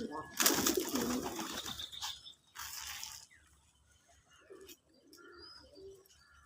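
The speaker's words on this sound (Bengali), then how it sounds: "দেখেন আমার দেশি কবুতর খামার" Domestic pigeons at a pigeon farm coo and call in soft repeated bursts, with a loud flurry of wing and rustling noise early on, then quieter scattered cooing and chirps close by.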